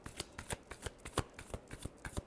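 A deck of tarot cards being shuffled by hand, a quick series of crisp riffling slaps and soft card flutters repeating close to the microphone with no one speaking.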